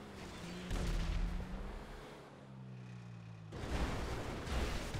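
Gunfire and rocket blasts in a video game echo from a distance as two bursts of booming shots, separated by a quieter rumbling lull.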